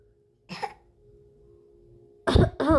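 A young child coughs on request with one short cough and then a louder double cough a moment later, heard up close in a quiet room.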